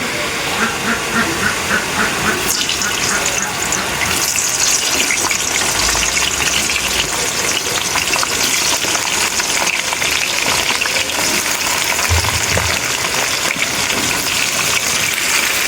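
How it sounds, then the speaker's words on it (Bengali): Eggplant frying in hot oil in a wok gives a loud, steady, continuous sizzle and hiss with occasional spattering and clatter, heard throughout without speech. "কড়াইতে যে তেল আছে, ওই তেলে আমি বেগুনগুলো নিয়ে ভেজে নেব"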